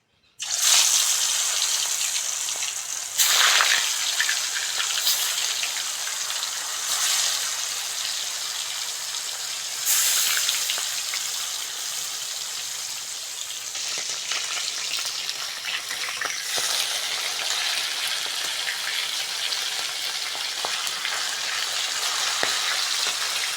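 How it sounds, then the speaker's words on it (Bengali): Tangra fish pieces coated in salt and turmeric fry in hot mustard oil, giving a loud, steady sizzle with crackling spatter that runs through the whole stretch with brief louder surges. "মাছ ভাজার জন্য করার মধ্যে সরিষার তেল দিয়ে দেবো"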